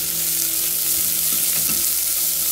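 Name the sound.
chopped onion frying with crushed ajwain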